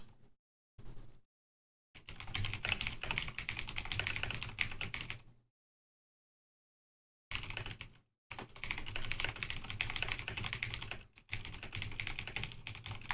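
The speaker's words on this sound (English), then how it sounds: "I hope that's not too noisy, my typing that is." Rapid clattering keystrokes on a computer keyboard come in bursts, broken by a couple of silent pauses, close and fairly loud with no voice over them.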